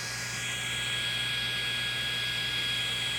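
Brushless Castle system motor on a Traxxas Slash 4x4 Platinum Edition RC car held on a desk at half throttle: a continuous, steady high-pitched electric whine over a low hum, unbroken and fairly loud throughout.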